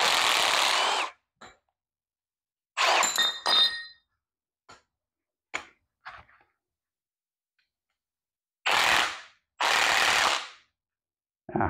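Sharp metallic clanks and clinks from a wrench working on rusty go-kart parts come in separated bursts, with loud scraping rasps at the start and end and short tool knocks between stretches of silence.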